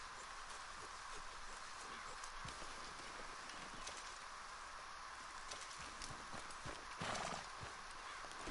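A horse in a PS4 video game gallops with steady, rhythmic clip-clopping hooves over a constant hissing background. A loud whinnying neigh comes near the end.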